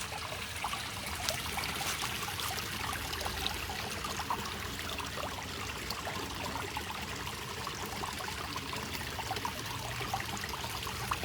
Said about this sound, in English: waterfall pond.